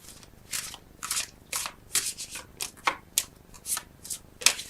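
Tarot cards being shuffled and drawn by hand, with crisp bursts of riffling and sliding that come in an irregular rhythm, close and fairly loud with quiet gaps between them.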